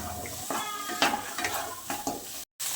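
Fried potatoes are stirred in a pan with spiced masala, a close scraping and sizzling with several distinct stir strokes and a brief gap near the end.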